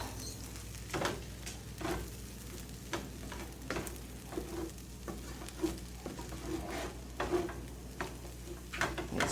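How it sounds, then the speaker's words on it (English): Fried rice sizzles in a pan while a spoon or spatula stirs and scrapes it in repeated strokes, with a steady frying hiss underneath. "Give that a quick stir."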